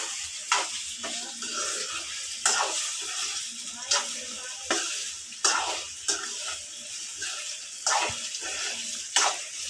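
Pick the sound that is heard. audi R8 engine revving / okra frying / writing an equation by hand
okra frying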